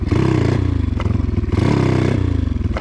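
A motorcycle engine revs hard and steady while the rider pops the clutch and lifts the front wheel into a wheelie, a loud, close, continuous buzzing roar with two brief surges and no talk.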